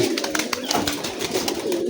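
Pigeons cooing from the loft area after their morning release, several birds overlapping in a continuous chorus of low throaty coos, close and steady with no talking.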